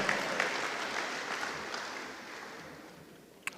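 Applause from an audience honoring athletes at a Hall of Fame ceremony, a steady broad wash of clapping that slowly fades over several seconds, with no voices over it.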